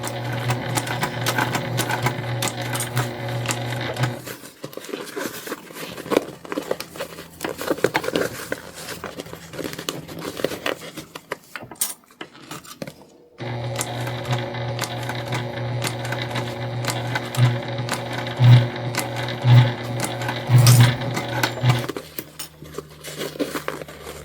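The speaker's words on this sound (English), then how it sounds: "we did a nice back stitch on both sides" A sewing machine runs a back stitch on a Belinda bum bag in steady, rapid bursts of mechanical whirring and needle patter. It pauses briefly twice, then resumes at close range with no talking.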